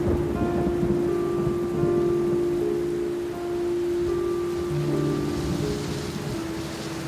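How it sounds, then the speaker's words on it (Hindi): Heavy rain pours steadily in a village at night, a dense even wash with a low rumbling undertone and a sustained droning tone beneath it. "इतनी तेज बारिश में आप मत जाइए"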